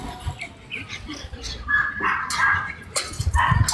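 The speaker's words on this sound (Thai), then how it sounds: "ใช่ห้ามให้หมาเห่าเดี๋ยวถูกดุ" Several dogs bark, yip and whimper close by in an excited, uneven burst of sound, mixed with people talking over them.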